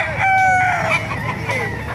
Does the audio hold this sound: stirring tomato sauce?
no